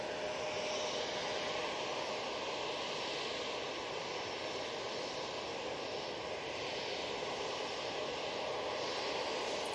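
A Lufthansa jet airliner heading to Frankfurt produces a steady distant engine roar while departing Manchester Airport, a continuous even drone with no talking over it.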